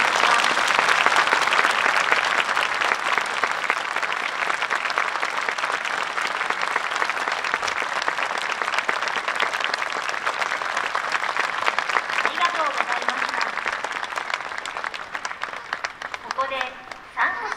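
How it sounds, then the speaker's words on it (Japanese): Sustained, loud audience applause fills a twilight outdoor concert at a Shinto shrine, featuring a soprano and an army band; the dense clapping runs steadily throughout and thins slightly near the end as some voices emerge. "今一度大きな拍手をお願いします。"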